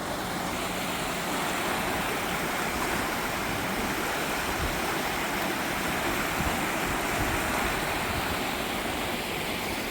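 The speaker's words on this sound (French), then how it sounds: "Là, il y a une rivière qui s'appelle Alonzone." River near Burgos on the Camino de Santiago, rushing water giving a dense, steady broadband roar, close and continuous with no voices.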